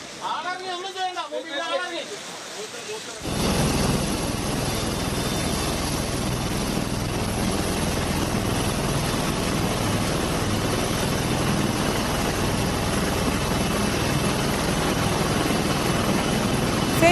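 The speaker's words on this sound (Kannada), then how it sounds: "ಸೇನಾ ಹೆಲಿಕಾಪ್ಟರ್ ಅನ್ನ ಬಳಸಿ ರಕ್ಷಣಾ ಕಾರ್ಯಾಚರಣೆ ಮಾಡಲಾಗ್ತಾ ಇರೋದು" Army helicopter flying during a landslide rescue operation in Wayanad, a loud continuous engine and rotor roar that follows a few seconds of speech at the start.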